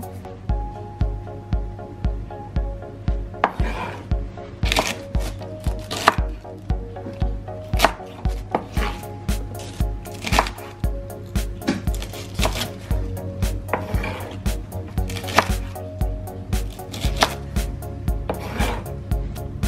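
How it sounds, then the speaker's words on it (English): A knife cuts Brussels sprouts into quarters on a wooden board, a steady run of crisp, close, regular chops and board taps with a faint hum underneath. "we're just gonna cut it down the middle and then we're just gonna cut it opposite way down the middle"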